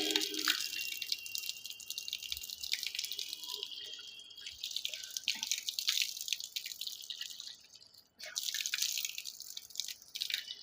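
Water drips and splashes from a running tap as a face is washed for wudu: a continuous watery hiss broken by splashes and a brief lull, close and moderately loud.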